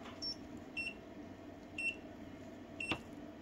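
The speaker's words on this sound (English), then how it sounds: "So I switch on the overcurrent protection now, and now it will go in alarm when I try to pull that 5 amps." Wanptek bench power supply sounding its overcurrent protection alarm: a series of short, thin electronic beeps repeating about once a second, faint against a quiet background hum, with one soft click.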